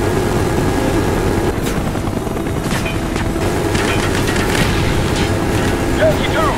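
Helicopter in the video game Call of Duty: Black Ops, a constant, loud rotor and engine drone that fills the whole stretch, with shouted voices and gunfire-like bursts over it.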